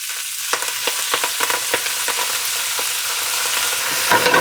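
Greens hit a hot pan and sizzle steadily, with a series of sharp crackles and pops over a constant frying hiss, close and fairly loud, with no voices.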